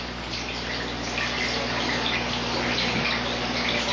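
Water poured or splashed steadily throughout a hands-on healing ritual, a continuous broadband wash like a running tap, close and fairly loud with no talking over it.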